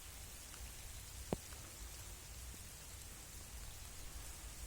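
Faint, steady rain falls on a rural spot, a soft continuous hiss with one brief sharp tap standing out early on.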